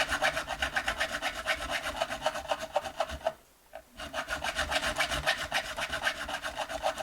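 A wide-bladed saw rasps steadily through a fret slot on a 2016 Chinese-copy Fender Marcus Miller Jazz 5 bass, close and continuous with fast back-and-forth strokes, pausing briefly midway before resuming.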